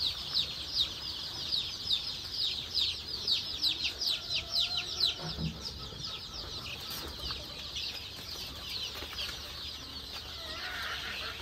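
Young desi village chickens in a brooding shed keep up a dense chorus of rapid, high peeping and chirping, busiest in the first half, then thinning to softer calls over quiet background noise.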